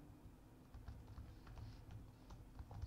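Keystrokes on a computer keyboard while Python code is entered in an editor, a steady patter of light clicks close by, quiet and continuous, with no voice.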